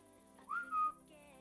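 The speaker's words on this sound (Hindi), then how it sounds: "मैं इसको सीटी मारता हूँ तो भाई ये मेरे पास आता है" A person whistles to call a horse in Minecraft: two short rising whistle notes, clear and close, over faint background game tones.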